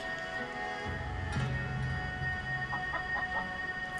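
A chicken clucks in Tales of Xillia, with soft, scattered clucks faint beneath a steady hum of game music and ambience.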